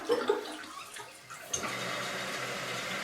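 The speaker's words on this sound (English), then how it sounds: "it flushes real quick, real fast" A Tornado toilet flushes after its button is pressed: a quick rush of water starts abruptly and continues as a steady, close gushing swirl, following a few faint clicks and rustles.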